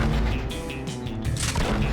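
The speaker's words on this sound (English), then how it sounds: "I threw some grenades towards a nearby person" Grenade blasts in a Fortnite match: a dense, loud burst of booming explosions and crashing debris filling a short stretch with no pauses or talk.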